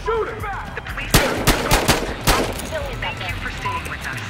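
Gunfire in the video game Battlefield: Hardline, a quick burst of several loud sharp shots about a second apart, with voices talking and shouting around them.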